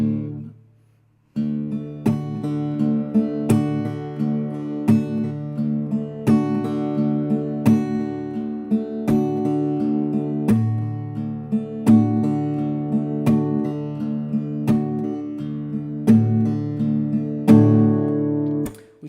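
An acoustic guitar picks a fingerpicking pattern at full speed, steady plucked notes flowing in a regular rhythm with accented bass strikes, close and moderately loud, no voices.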